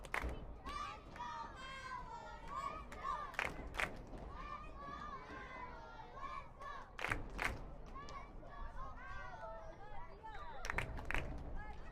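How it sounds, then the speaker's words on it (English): A home crowd at a soccer match between Alloy SC and Philadelphia SC roars and cheers after a goal, a sustained mass of shouting with individual yells and whoops rising and falling, close and continuous throughout. "Does anything more need to be said than what you can hear from the crowd, folks?"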